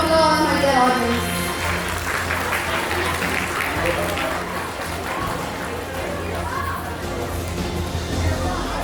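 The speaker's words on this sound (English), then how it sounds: "Please give them a big round of applause, my dear audience." Audience applause at the Chinmayam award ceremony for a Gita chanting competition: steady, sustained clapping from a crowd filling the hall for several seconds, with a voice speaking over the start.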